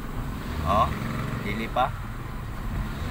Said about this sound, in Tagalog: mag-gas tayo bigla. Ayan, nanginginig yung makina.